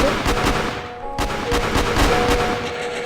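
Gunfire in the Roblox video game: dense, continuous bursts of rapid shots layered over game sounds, loud and close throughout with no pause.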